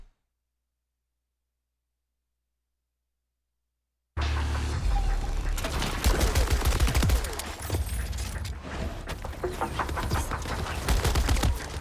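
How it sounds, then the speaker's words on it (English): Rapid gunfire erupts in Borderlands 4 after about four seconds of silence, loud bursts of automatic shooting and sharp shots continuing densely to the end. "Hey, you're shooting at your own ally."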